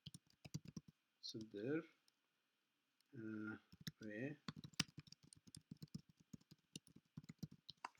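Quick bursts of clicking keystrokes on a computer keyboard, close and crisp, pause while a voice speaks briefly, then resume in a rapid, uneven patter.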